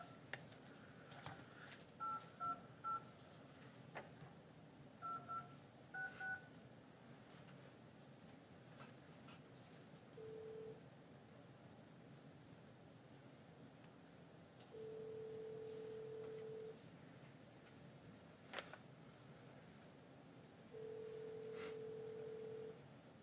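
A telephone call placed from a public health and safety committee meeting room: several quick DTMF keypad tones are dialed, then long steady tones sound at intervals over a quiet room, faint and fairly distant.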